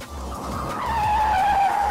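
A car driving and skidding in GTA V, engine rumble rising into a sustained tire squeal that grows louder and holds to the end, with no voices.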